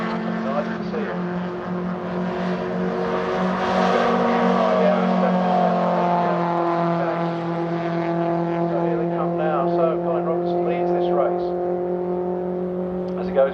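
MG ZR race cars in the MGCC Trophy race at Silverstone GP circuit roar past trackside, a steady loud engine drone swelling and fading as they go by, with a commentator talking over it.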